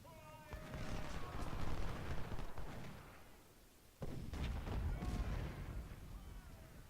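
Musket and artillery fire crackles and rumbles in a Civil War strategy game battle at Prairie Grove, two dense waves of continuous distant gunfire and booms, the second beginning with a sharp surge partway through.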